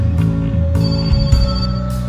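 A telephone rings in the video game My Summer Car, its repeated electronic bell tones steady and fairly loud over a constant low game hum, with no talk.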